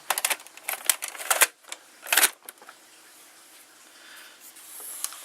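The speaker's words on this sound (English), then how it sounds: "you have to press play for that the tape loads" A Hitachi VM-2100A VHS camcorder loads a tape, giving a close run of clicky mechanical rattles and clacks in the first half-second bursts, then a quieter whirring motor hum that continues to the end.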